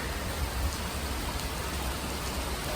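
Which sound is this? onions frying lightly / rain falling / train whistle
rain falling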